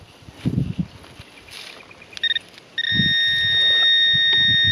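A high, steady tone from a Garrett AT Pro metal detector over a silver coin beeps briefly twice, then holds continuously and loud, over faint rustling and low thumps from nearby movement.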